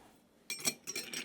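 Cocktail glasses clink as they are taken out: a few short, bright, close clinks in quick succession after a quiet moment.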